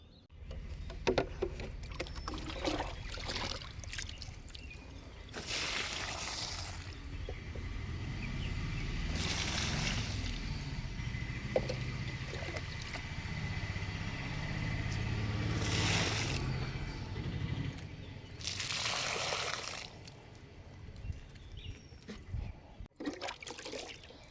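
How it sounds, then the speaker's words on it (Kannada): Water pours and splashes steadily onto flowering plants and soil in the morning, with bursts of stronger spraying recurring every few seconds, close by and no talking. "ನೋಡಿ ಇವಾಗ ಬೆಳಿಗ್ಗೆ ನೀರು ಹಾಕ್ತಾ ಇದ್ದೇನೆ"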